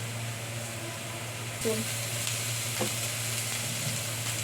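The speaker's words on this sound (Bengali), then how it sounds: "নেড়ে চেড়ে হয়ে আসছে পেঁয়াজটা আমার ভাজা ভাজা হয়ে এসছে এবার আমি এর মধ্যে দিয়ে দেবো গ্রেট করা আদা" Onions frying in a pan as grated ginger goes in, a steady close sizzle with a low constant hum underneath and a few stirring scrapes, growing slightly louder partway through.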